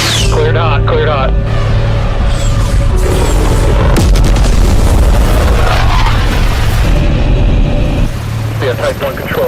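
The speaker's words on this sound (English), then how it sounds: "A type 1 control bomb on target." A bomb strikes its target in heavy, continuous booming and rumbling blasts with crackling debris, loud and sustained throughout, while radio voices talk over the din.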